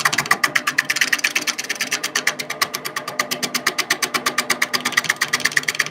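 Small wood lathe turning a vase blank as a roughing gouge cuts, giving a fast, even rhythmic chatter of tool strikes on the spinning wood, close and continuous throughout.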